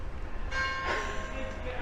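Bells ring out as an invasion signal in a wartime home guard comedy, a brief metallic clang with sustained ringing tones over a noisy background.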